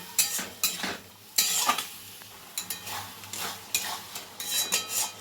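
Chili, ginger, garlic, cumin and coriander spices frying and being stirred in a pan while cooking stuffed pointed gourd with prawns, with a steady close sizzle and repeated scraping clinks of a spatula against the pan.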